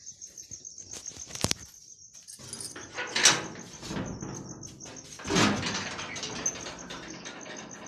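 A house door opened at night to step outside: a sharp knock or clack, then scraping and creaking of the door moving, with a steady high insect-like whine outdoors and a louder swish midway.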